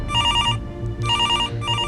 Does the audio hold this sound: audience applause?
no